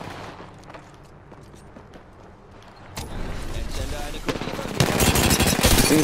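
Enemy gunfire in Apex Legends starts as scattered distant shots, then swells into loud, close rapid bursts of automatic fire over the last few seconds.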